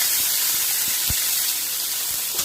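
Chopped onion drops into hot oil already crackling with mustard seeds and curry leaves for a spicy Tamil kara kuzhambu, giving a steady, loud, close hiss and sizzle with a few soft pops.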